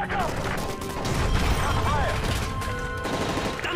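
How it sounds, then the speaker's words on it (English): Bursts of gunfire in Call of Duty: Modern Warfare 3 crackle through a dense, loud soundscape of crashes and mechanical clatter aboard a hijacked plane, with shouted voices mixed in beneath the chaos. "That's gunfire! Hijackers are taking the plane!"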